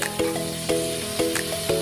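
A spice paste with onion and garlic fries in a pan as it is mixed, a soft sizzle broken by four evenly spaced scraping strokes roughly every half second, close up with no voices.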